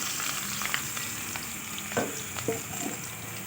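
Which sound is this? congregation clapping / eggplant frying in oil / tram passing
eggplant frying in oil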